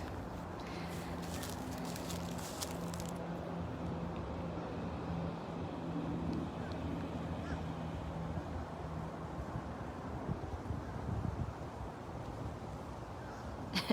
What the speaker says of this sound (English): The wind is pretty strong today